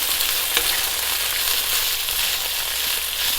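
Bean sprouts and yao choy stir-fried in a hot pan give a dense, steady sizzle that runs loud and close from start to finish, with no voices and only faint stirring underneath.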